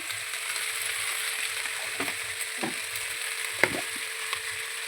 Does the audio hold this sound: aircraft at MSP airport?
no